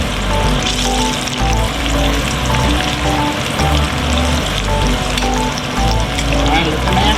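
Southern-style catfish frying in hot oil, a loud, steady crackling sizzle that fills the whole stretch, with a voice faintly in the background.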